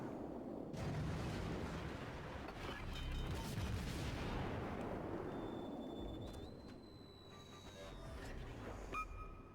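Heavy naval gunfire from an enemy warship in World of Warships, a long rumbling boom swelling and fading over several seconds, followed by a thin whistling tone and a few faint mechanical clicks, moderately distant.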